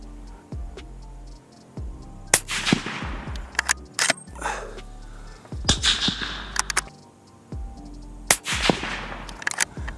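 Suppressed shots from a 7 PRC rifle fire in a quick series, each a sharp crack followed by a short ringing decay, loud and close, with no speech.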